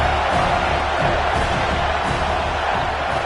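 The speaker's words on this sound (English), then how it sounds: "Crowd alive." A stadium crowd roars steadily during a red-zone third-down play at an amateur American football game, a loud, dense, continuous wash of cheering.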